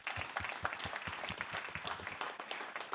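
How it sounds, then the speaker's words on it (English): Audience applause for a speaker at a React refactoring talk on a Monday night, a few seconds of steady clapping from a small room crowd, individual claps distinct and fairly close. "Let's give him another round of applause."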